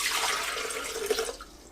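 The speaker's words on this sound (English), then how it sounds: "Add water" Water pours steadily into a blender jar for a smoothie, a continuous close splashing rush that tapers off slightly toward the end, with no voices.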